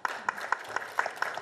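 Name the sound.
audience applause at panel forum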